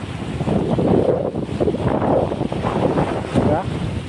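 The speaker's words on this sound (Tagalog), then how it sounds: "Tumataas yung alon ha." Wind-driven waves surging on a mountain river in Taiwan during bad weather, a loud, continuous rushing wash with heavy wind buffeting the microphone.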